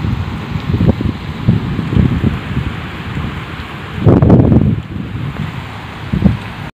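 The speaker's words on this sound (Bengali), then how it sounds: "বৃষ্টি স্টার্ট হয়ে গেছে" Afternoon rain starting during a storm near a river, a steady hiss of falling rain with a deeper rumbling swell of distant thunder midway, loud and close.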